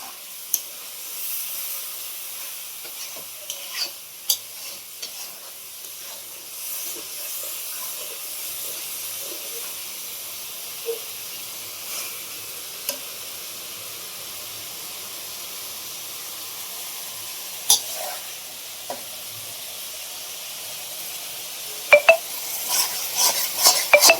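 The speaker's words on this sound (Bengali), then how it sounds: "জল দিয়ে ভালো করে মশলাটা কষানো হচ্ছে এখন" Chicken and potato masala being fried down with water in a home kitchen: a soft, steady sizzling hiss with occasional clinks and taps of a spoon on the pan, a cluster of louder knocks near the end, no talking.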